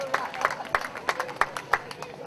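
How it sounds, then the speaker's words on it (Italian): An audience at an award ceremony in Sapri honouring footballer José Altafini gives scattered, uneven applause, individual claps standing out distinctly rather than merging into a dense roar. "Un omaggio floreale a José, che salutiamo veramente con un grosso applauso"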